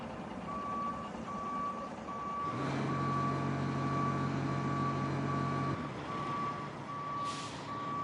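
A truck's reversing alarm beeps in a steady repeating pattern as it backs up in a video game, with a low engine rumble swelling midway and a brief hiss near the end.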